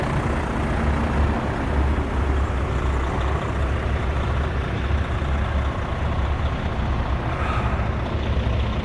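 Loaded dump truck with a 6-speed Allison automatic sitting at idle with no throttle, its steady low diesel rumble continuous and close throughout with no speech.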